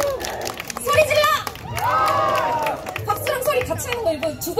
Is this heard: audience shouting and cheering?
yes